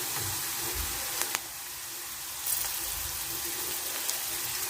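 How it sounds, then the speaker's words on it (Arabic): Chopped onion frying gently in oil in a home kitchen, a steady hissing sizzle throughout with a few faint clicks of utensils, close and moderately loud, without talk. "كده شكل البصل في الزيت، مش هنديله تحميره جامده يعني"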